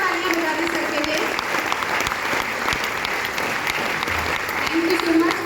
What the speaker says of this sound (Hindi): एक बार चाहूंगी जोरदार तालियां बजा दें सर के लिए